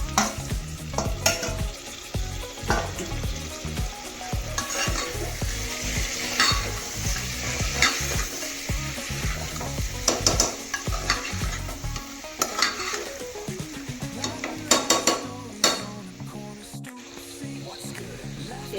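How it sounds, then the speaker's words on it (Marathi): Chicken stirred into sizzling masala in a pan for chicken pulao, with steady scraping and frying close up, continuous and fairly loud for the whole stretch, no talking. "पहिले चिकनच फक्त टाकायचं आणि मसाल्यामध्ये मिक्स करून घ्यायचं"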